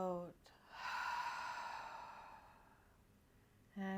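A slow, deep exhalation during a guided breathing exercise, steady and soft for about three seconds, close to the microphone, with a brief voice just before and just after.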